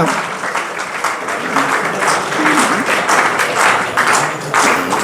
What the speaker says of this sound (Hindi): तालियां भाई बजती रहनी चाहिए बिल्कुल ऊर्जा के साथ